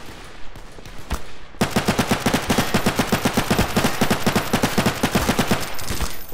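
Weapons in the video game Garry's Mod fire in long, fast automatic bursts, loud and close, a sharp regular rattle of shots that runs almost unbroken after a brief quieter lead-in.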